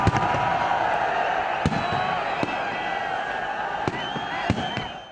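New Year fireworks burst at the Eiffel Tower, sharp scattered bangs cracking over a loud, continuous crowd din, with distant cheering and voices throughout.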